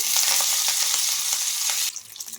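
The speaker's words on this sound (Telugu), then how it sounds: "జీలకర్ర ఆవాలు ఇవి కొద్దిగా ఫ్రై అయిన తర్వాత" Cumin and mustard seeds crackle and sizzle loudly in hot oil, a bright continuous hiss with small pops, easing off sharply near the end.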